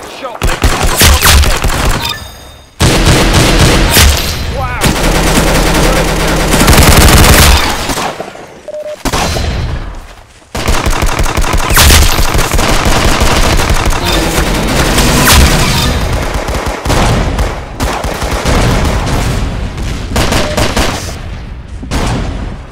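Rapid video-game gunfire from Roblox Arsenal, loud bursts of automatic shooting and single shots in dense clusters with brief pauses, with a voice talking over parts of it.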